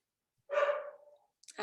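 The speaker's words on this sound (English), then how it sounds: "My dog is barking." A single dog bark sounds indoors, a short loud yelp that trails off, followed a moment later by a brief burst of a voice.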